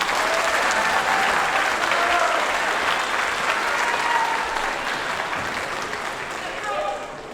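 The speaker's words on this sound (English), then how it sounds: "so if you could please give them a round of applause" Sustained applause from a school concert audience greeting a middle school honors band, a dense steady wash of many hands clapping that holds loud for several seconds before easing slightly near the end, with some voices mixed in.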